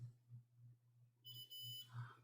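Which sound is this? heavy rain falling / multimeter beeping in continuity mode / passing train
multimeter beeping in continuity mode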